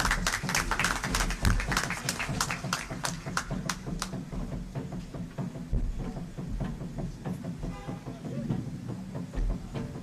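A crowd at a live public event in Dumka, Jharkhand applauds as the Chief Minister arrives on stage, with dense clapping that swells at first, then thins to scattered claps under continuous crowd noise.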